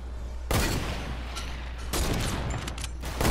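In the video game Fortnite, sniper gunfire sounds as two sharp, loud, booming shots about a second and a half apart, over a steady background rumble.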